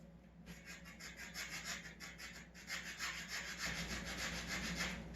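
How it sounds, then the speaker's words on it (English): Sandpaper rubs the negative end of a rechargeable battery in quick, steady back-and-forth strokes, a close, soft rasping scrape repeated evenly throughout. "Let's try to rub the bottom, the negative ends."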